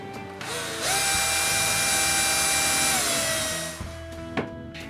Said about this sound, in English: Then I screw the angle meeting rail strip.